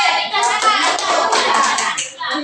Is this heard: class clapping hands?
yes